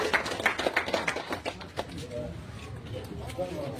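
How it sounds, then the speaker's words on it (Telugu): Clapping for municipal sanitation workers at an honouring ceremony in Kadapa, a burst of scattered hand claps in the first couple of seconds that fades into room murmur and voices. "గట్టి చప్పట్లతో పిలవండి మున్సిపల్ కార్మికులు"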